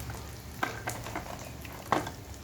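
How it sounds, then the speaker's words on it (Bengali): Spiced masala for prawn malai curry sizzles in a pan, with salt, turmeric, coriander, cumin and chili powder being fried; a quiet steady crackle carries a couple of sharper stirring scrapes. "এবারে মশলাটাকে ভালো করে কষিয়ে নেব।"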